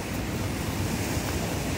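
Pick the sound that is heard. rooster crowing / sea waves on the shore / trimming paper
sea waves on the shore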